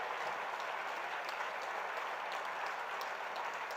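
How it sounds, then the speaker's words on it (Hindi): Dense crowd applause at a political rally in Shivpuri honouring Shivraj Singh, a steady unbroken roar of many hands clapping that holds at an even level throughout. "तालियों की गड़गड़ाहट से हम शिवराज सिंह जी को धन्यवाद दें।"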